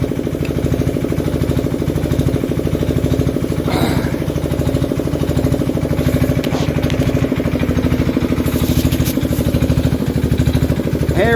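A Lister diesel engine in a shed runs steadily at idle, giving a loud, even thumping chug that repeats in a regular rhythm. It is close and continuous, with faint clinks on top.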